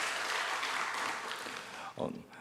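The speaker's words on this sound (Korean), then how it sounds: "우리 격려의 박수를 우리 찬양팀이 보내겠습니다" A church congregation applauds its worship team with a sustained wash of clapping that fades after about two seconds, when a voice starts speaking.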